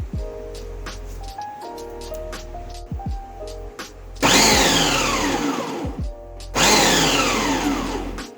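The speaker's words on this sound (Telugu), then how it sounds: "క్యాబేజీ క్యారెట్ కలిపి మనం చాపింగ్ చేసుకున్నప్పుడు మాత్రం ఇందులో డైరెక్ట్గా" A Preethi Zodiac food processor chops cabbage and carrot in two loud, broadband whirring bursts of a few seconds each, with quieter clatter and handling sounds between them.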